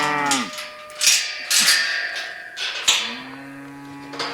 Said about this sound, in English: I'm going to move cattle and count them at the same time.